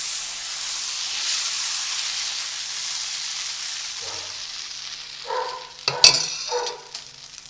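Egg dosa batter hits a hot pan with a broad steady hiss and sizzle, followed by a few short scraping and clinking touches near the end, with no voices.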